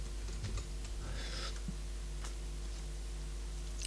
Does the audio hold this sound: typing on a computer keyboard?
yes